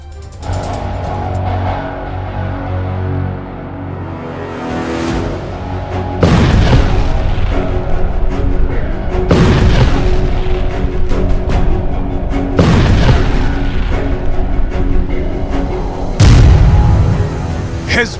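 Heavy explosions from bombing in the Hezbollah–Israel fighting, with several loud, deep booming blasts in sequence, each a sharp impact followed by a rumbling tail over continuous background noise.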